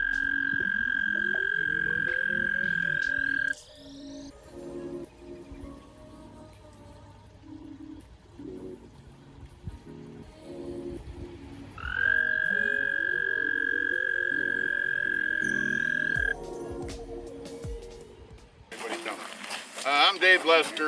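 American toads calling in a wet outdoor setting, long sustained high musical trills near and loud, two drawn-out choruses separated by a quieter gap with low rumbling, then a burst of other noise at the end.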